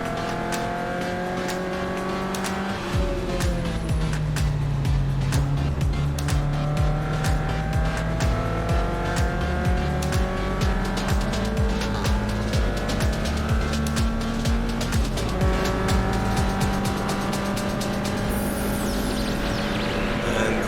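Lotus Elise and a BMW race wheel to wheel at Silverstone in a 2022 Roadsports race, engines revving up and down through gear changes with loud sustained onboard engine drone, tire squeal and another car roaring close alongside.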